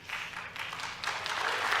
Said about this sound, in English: God, stop clapping for everything.